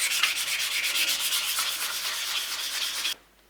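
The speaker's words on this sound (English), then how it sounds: "So yeah, I'll keep rubbing away at it." An old hand tool being rubbed and sanded in a continuous, close, rhythmic rasp of quick back-and-forth strokes that stops abruptly, leaving near silence.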